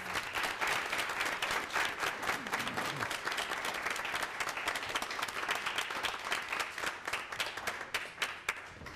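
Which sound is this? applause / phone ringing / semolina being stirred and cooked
applause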